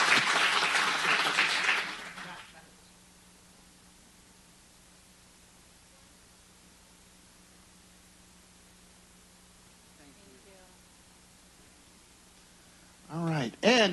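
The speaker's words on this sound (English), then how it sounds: "can we get another round of applause" An audience at a county supervisors meeting applauds for about two seconds, a loud burst of clapping that quickly dies into near silence before a brief stir of sound at the end.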